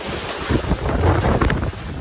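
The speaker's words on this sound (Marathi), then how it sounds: "आता तर मोबाईल पण उडेल एवढा वारा येतो" Strong gusts at a Mahabaleshwar viewpoint buffet the microphone in a loud, continuous roar that swells and dips over a couple of seconds.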